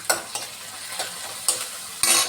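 Onions fry in plenty of oil with turmeric for a stuffed bitter gourd curry, a close soft sizzle under a few sharp scraping stirs of a spatula, about one every half second.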